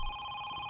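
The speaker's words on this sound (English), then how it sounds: "Okay, we got a phone call." A telephone rings in the video game Home Sweet Home, a steady electronic ringing tone that holds for the whole moment over a faint low background hum, with no talking.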